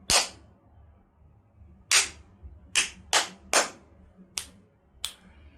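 Sharp hand claps made to check audio and video sync, seven separate claps at uneven intervals, close and crisp, each standing alone with a short decay over a quiet low hum.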